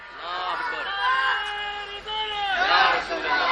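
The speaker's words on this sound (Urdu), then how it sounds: "درمیان سے کوئی لگائے نعرہ اسلام زندہ باد کے نعرے لگائیں" A crowd at an Islamic religious gathering celebrating Jashn-e-Ghaus-ul-Wara in Partapgarh, India, chants the slogan 'Islam Zindabad' together in response, many voices rising and falling in sustained unison for several seconds.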